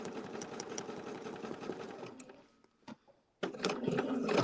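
A sewing machine runs in fast, steady bursts while stitching a show quilt, pausing briefly for a single extra stitch before resuming its close, continuous mechanical whir.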